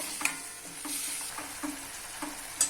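Radish greens cook in a pan, giving a soft, steady sizzle, while a spoon stirs them with light scraping strokes about every half second.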